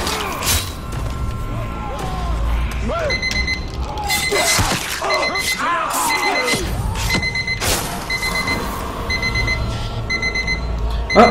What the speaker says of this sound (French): il y a le réveil qui sonne